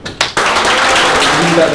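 Group of people breaking into loud, sustained applause at the close of a university football club gathering, starting after a couple of brief bursts and continuing steadily with some voices mixed in.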